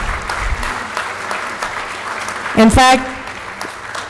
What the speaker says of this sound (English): I want to give a big applause to my team, the orchestra.